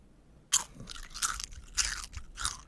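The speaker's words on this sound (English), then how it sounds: "Like an open mouth wet crunch" A crisp crunched right into the microphone in four or five wet, open-mouthed bites, each a sharp close crackle with short pauses between, no talking.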